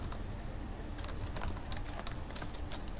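Quick, irregular keystrokes on a computer keyboard clatter at close range in bursts, soft overall and with no voices.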